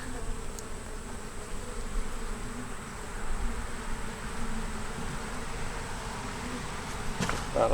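Honeybees buzz around an opened four-frame nuc hive holding a yellow queen, a steady close drone with individual bees whirring past the microphone, and no talking.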